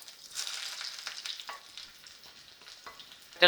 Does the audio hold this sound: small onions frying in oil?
yes